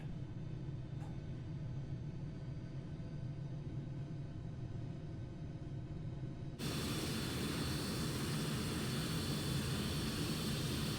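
A Panavia Tornado jet in the MSFS2020 flight simulator taxis with a steady low engine rumble and whine that swells abruptly louder partway through as the throttle comes up, with no talking.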